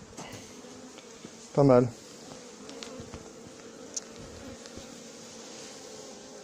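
A honeybee swarm during swarm collection outdoors, its buzz a faint steady hum in the background, with a brief spoken remark partway through.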